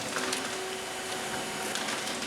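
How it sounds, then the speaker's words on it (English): An HP M233 laser printer runs a print job, giving a steady whirring mechanical hum with a faint constant tone and slight rustling, close and uninterrupted for a couple of seconds. "The printer is printing a job."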